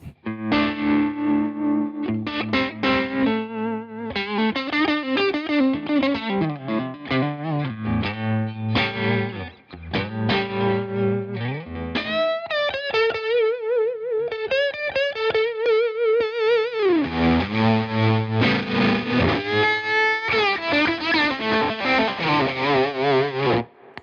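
A Fender American Professional Stratocaster plays through a heavily distorted amplifier with chorus-like shimmer, riffing continuously with chords and lead lines and a brief pause partway through.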